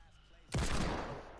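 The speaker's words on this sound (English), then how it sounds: "I knew someone's shooting at me." A burst of rapid gunfire from the Fortnite video game erupts suddenly after a quiet moment, loud and dense, then trails off into a fading rattle.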